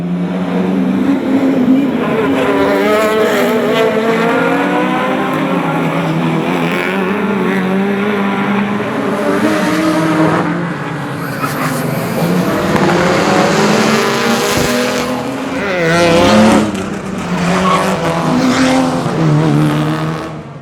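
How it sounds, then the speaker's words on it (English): Race cars roar through closed town streets during a motorsport festival feature race, engines howling loud and close with rising and falling revs as cars pass one after another, a continuous dense wall of engine noise. "The cars look and sound fantastic as they fly through the streets"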